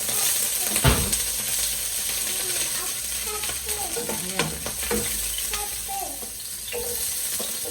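Spices frying in hot cooking oil in a home kitchen, with ginger and onion nearby for an octopus dish, giving a steady close sizzle with scattered clinks of stirring utensils and occasional faint speech.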